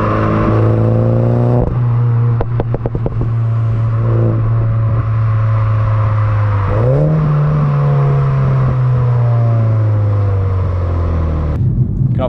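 A Mini John Cooper Works engine drones loudly and close, its exhaust note rising in pitch as it accelerates through a gear, then settling into a sustained roar.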